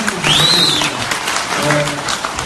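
Audience applause at a Korean veterans' gathering honoring Vietnam War servicemen, a steady wash of clapping from a crowd filling the whole stretch at moderate loudness, with a voice speaking briefly over it.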